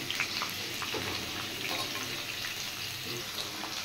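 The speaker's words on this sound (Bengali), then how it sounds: "এবার এগুলো একটু ভালো করে একটু ভেজে নেব।" Kabuli chana and paneer curry frying in a pan, giving a steady, close hiss and crackle with faint watery bubbling that runs evenly throughout.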